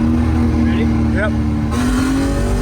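A BMW E36 Compact with a stiffened rear end spins its wheels, its engine roaring loud and steady at high revs close by, with voices in the car over it.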